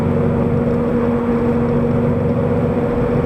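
Inside a Subaru BRZ fitted with a SpeedFactory aftermarket exhaust, a steady low engine drone and exhaust hum fill the cabin while cruising, loud, constant and even, with no talk.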